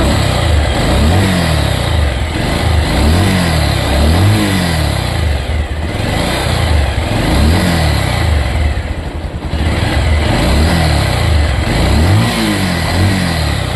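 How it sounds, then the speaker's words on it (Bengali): Bajaj Pulsar 150 double-disc motorcycle engine running close up, a steady mid-pitched drone with a rhythmic pulsing beat and mechanical timing-chain noise, briefly dipping near the end before resuming. "তো ইঞ্জিন থেকে একটা নয়েজ আসছে দেখেন"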